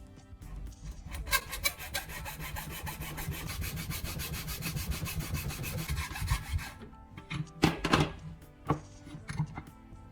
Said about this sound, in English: Now use a small saw to cut a groove along that line.